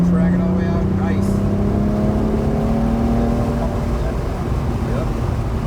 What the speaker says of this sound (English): Now you can start squeezing on the gas, track it all the way out.